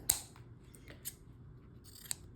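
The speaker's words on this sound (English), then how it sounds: "I feel like this end isn't even, so I'm gonna trim it up" Scissors snip the end of a wired ribbon in three quick, crisp cuts spread over two seconds, close and fairly quiet with no voices.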